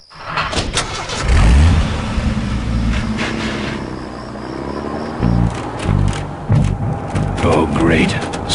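In the Full Throttle PC video game, a car engine revs and roars loudly with rising and falling bursts of acceleration, joined by mechanical clatter and other game sounds.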